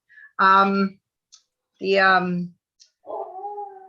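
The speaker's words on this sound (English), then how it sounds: "so I apologize for the dog in the background" A dog in the background whines and whimpers in three separate drawn-out bursts with short silences between them. The last call is lower and more wavering.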